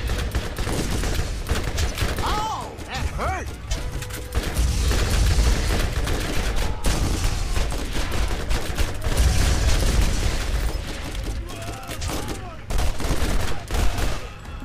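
Rapid bursts of fire-gun shooting in Borderlands, dense crackling volleys and booms running loudly through most of the stretch, with faint voices here and there.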